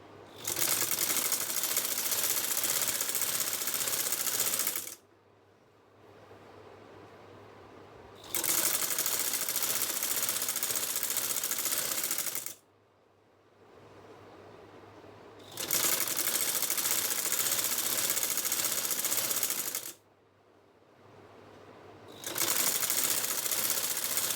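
A sewing machine stitching kameez fabric pieces together runs loud and close in three long steady whirring bursts, each separated by a few seconds of quiet pause.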